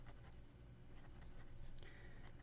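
A Moonman S5 demonstrator fountain pen with an oblique nib scratches softly across paper, faint and close, with a short stroke near the end and no voices.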